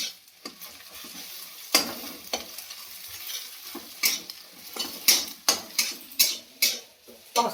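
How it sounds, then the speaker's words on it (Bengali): Food fries crisply in a pan with a continuous sizzle, punctuated by a regular series of sharp scraping stirs from a utensil against the metal, growing louder and more frequent toward the end. "এই একটু ঝুড়ি ঝুড়ি করে ভেজে নেব।"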